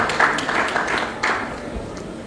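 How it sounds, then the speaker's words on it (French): A conference audience at a panel on regional economic and monetary integration applauds steadily, a dense wash of clapping filling the room with a few louder bursts. "vos applaudissements peuvent l'aider aussi à remonter un peu le moral"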